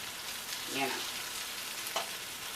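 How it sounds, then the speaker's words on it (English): Beef sizzles steadily in a pot as it browns for a beef stew, a close, even frying hiss with a faint voiced sound and a soft clink partway through. "we're just cooking that meat"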